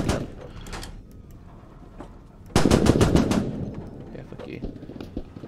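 Bursts of 7.62 machine gun fire striking an armoured vehicle in the video game Squad, rapid loud impacts arriving suddenly after quieter engine rumble, close and harsh, with a voice speaking over it.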